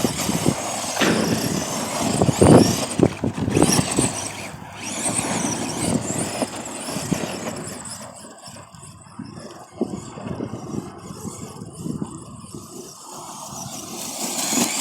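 An electric Arrma Granite Voltage RC monster truck spins donuts in an open field. A loud, continuous, close motor whir mixes with rough tire scrub and gravel noise, rising and falling as it turns, with no talking.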